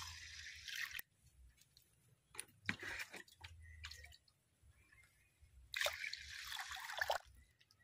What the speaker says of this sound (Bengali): ডালের মধ্যে এই বাটির 2 বাটি জল দিয়ে দেব।